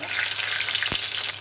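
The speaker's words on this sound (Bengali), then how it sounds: "তেলে দিয়ে দিলাম এলাচ, লবঙ্গ, দারচিনি, তেজপাতা" Cardamom, cloves, cinnamon and bay leaf frying in hot oil in a karahi, a steady close crackling sizzle with one short sharp knock partway through.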